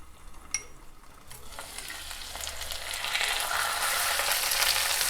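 Boiled, coarsely mashed potatoes are stirred and fried in a pan, giving a steady sizzle with scraping stir sounds that grows louder toward the end; no one speaks.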